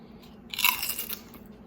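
A single close bite into a Lay's Nashville Hot Chicken potato chip gives a sharp, brittle crunch followed by a few quieter crackles of chewing, in an otherwise quiet room.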